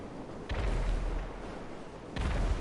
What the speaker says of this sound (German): Er ist explodiert